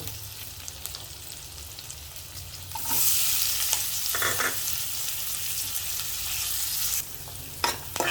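Butter sizzles in a hot pan on the stove, starting as a light hiss and swelling into a loud, dense sizzle with small spatters before it eases off near the end.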